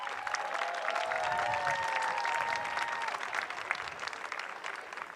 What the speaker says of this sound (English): can we have the entire Kempf family please stand as well as we give you a round of applause?